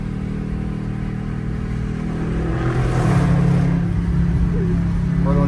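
A Dodge Durango cruising in traffic gives a low, steady engine and road rumble from inside the cabin, swelling slightly as it gathers speed partway through.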